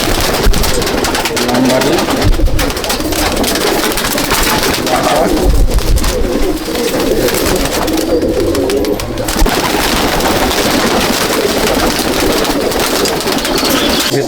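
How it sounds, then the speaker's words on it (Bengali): Andhra and Malwai pigeons in a loft at Subhasgram coo and flutter restlessly, wingbeats and soft calls overlapping close by in a dense, busy chorus. "পায়রা খুব ছটফট করছে"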